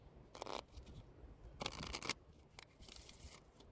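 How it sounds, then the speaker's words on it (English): Playing cards are shuffled up close in a few quick riffling bursts, soft and papery, with brief quiet gaps between them. "I'm gonna shuffle these"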